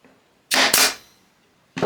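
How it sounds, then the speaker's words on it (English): A nail gun driving a nail into a wooden box, one sharp double-pop burst lasting about half a second, with the start of another shot at the very end, close and loud. "And we'll just nail gun our box first."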